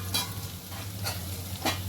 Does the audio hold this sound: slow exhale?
no